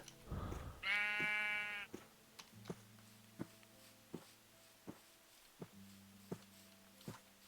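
A sheep in the Minecraft video game bleats once, loud and close, followed by a series of soft, evenly spaced blocky footstep taps over a faint low tone.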